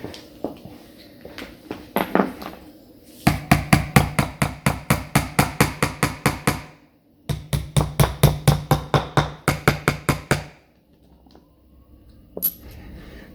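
Steady, rapid hammer taps driving wooden dowels into an oak or beech bed frame in two long bursts, close and ringing, with brief pauses and a few scattered knocks around them.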